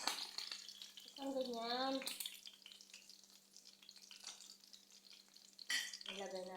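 Homemade tinapa frying in hot oil crackles and pops with a steady sizzle close by, while someone speaks briefly and exclaims over it in short bursts.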